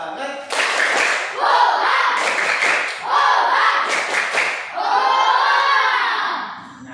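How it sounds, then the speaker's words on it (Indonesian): A class of students performs the "tepuk semangat" spirit clap in a classroom: loud, close bursts of rhythmic group clapping mixed with energetic chanted voices throughout. "Kalau gitu kita tepuk semangat dulu."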